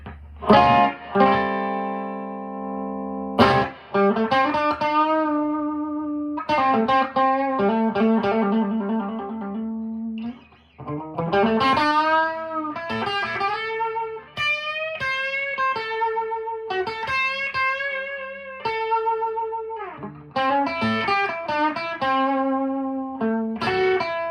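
Clean electric guitar, a Gibson BB King Lucille ES-355 on the bridge pickup, with a bright, twangy tone plays melodic lines and chords alone, notes ringing with a slight chorus-like shimmer.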